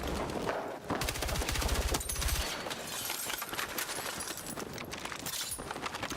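Bursts of automatic gunfire and sharp single shots, including a sniper, in a Battlefield 6 battle royale match, loud and close with rapid rattling strings and scattered cracks.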